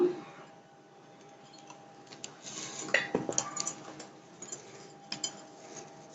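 A metal spoon clinks against a pot or container while turmeric goes into a Roop Chand fish curry: a few light, close chinks and scrapes over a quiet kitchen background.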